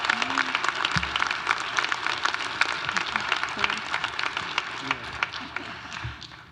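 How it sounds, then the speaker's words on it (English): Crowd applause for doctoral students at a 2026 Asian Student Celebration, a steady wash of clapping throughout with faint voices and cheers mixed in. "Please join me in giving a round of applause to our doctoral students."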